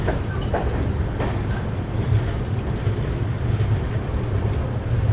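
The Chambal Express leaves a crowded station after a long halt, its carriages rumbling steadily and loudly with a rhythmic clickety-clack of wheels on rail joints.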